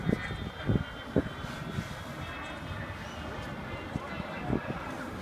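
A fixed-wing aircraft performs at an air show, its engine a distant, steady roar under the crowd and a public-address voice, with a few louder thumps.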